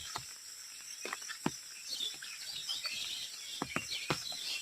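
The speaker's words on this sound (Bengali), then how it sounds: "পাখিগুলা সব আসা যাওয়া করছে।" Birds call outdoors on an overcast morning, faint scattered chirps and tweets that come and go at a distance over a soft background hum, with no speech.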